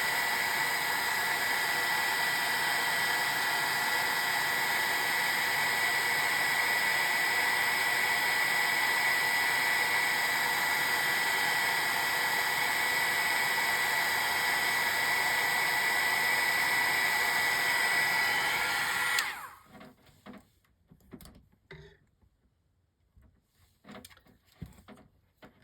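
A craft heat tool heat-sets a watercolor card with a steady, loud, whirring hot-air blast that runs for about nineteen seconds and then switches off, followed by faint handling clicks and rustles.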